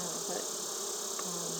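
Honey bees buzzing steadily inside a hive, a dense continuous drone close up with no talking.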